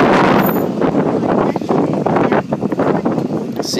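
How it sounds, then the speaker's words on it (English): Loud wind buffets the microphone, producing rough, gusty rumbling bursts that rise and fall throughout, on a blustery day at an outdoor spot with a Buick LaCrosse CSX. "Apologize for the wind today."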